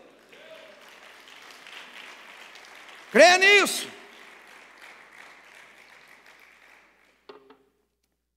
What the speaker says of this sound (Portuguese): Se você crê, aplauda ao Senhor.